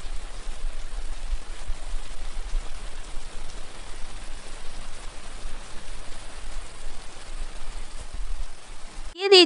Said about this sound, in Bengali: পটল দিয়ে দিয়ে দিচ্ছি ঝিঙে। ঝিঙে দিয়েও নেড়ে চেড়ে ভেজে নিচ্ছি।